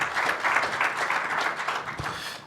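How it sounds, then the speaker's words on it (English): An audience applauding panel speakers at a talk about international student-athletes, a dense, continuous burst of clapping close by and fairly loud throughout. "Let's give them a round of applause."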